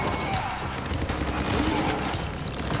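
Automatic weapon fire rattles without pause in the top-down action game Ruiner, a dense, continuous stream of shots with crashing impacts layered over game ambience.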